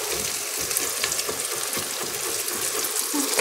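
Food sautéing in a new Instant Pot on its sauté function gives a loud, steady, close sizzle with a dense hiss and faint stirring underneath.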